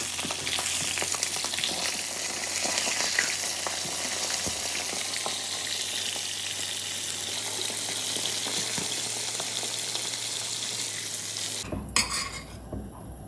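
Liver fries in ghee in a pan with a loud, continuous crackling sizzle, plus occasional stirring scrapes and utensil clinks, ending in a sharp clatter of metal near the close.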